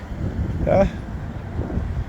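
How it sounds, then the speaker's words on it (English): Gusty wind buffets an outdoor microphone at a bus stop, producing a steady low rumbling roar that swells briefly near the middle. "Ooh, it is windy."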